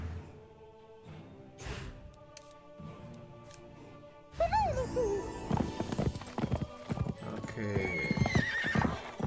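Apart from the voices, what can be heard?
horse galloping and neighing in video game South Park: The Stick of Truth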